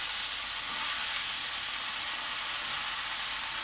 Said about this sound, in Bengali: তো রসুন আর লঙ্কাটা তেলে আমার পুরো হয়ে গেছে, আমি শাকটা দিয়ে দেওয়া হবে